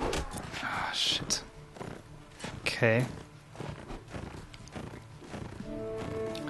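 Hoofbeats from horses clatter amid busy game sounds in Mount & Blade: Warband, with a person talking over them in German throughout.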